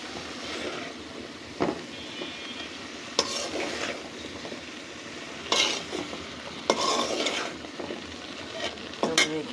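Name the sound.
sautéing mixed vegetables for khichuri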